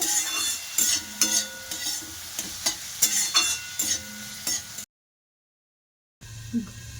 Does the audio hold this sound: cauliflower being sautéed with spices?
yes